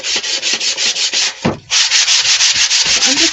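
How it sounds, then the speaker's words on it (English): A small palm sander scuffs a wooden paint stir stick in quick, rhythmic strokes, loud and close, with one short break and a thump midway. "Okay, so I just have my little palm sander."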